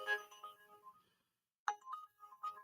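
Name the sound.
Uber app notification sound on phone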